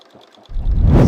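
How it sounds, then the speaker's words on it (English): Sewing machine stitching joined quilt blocks: after about half a second of near quiet, a loud, steady motor whir and needle clatter kick in and run to the end. "But let's just keep sewing."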